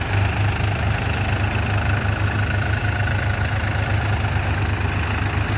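Two tractors, a Powertrac Euro 45 Plus 4WD and a New Holland Excel 4710 4WD, driving in third load gear near 1000 RPM, their engines a steady, loud low rumble with a throbbing diesel pulse, continuous throughout with no voices.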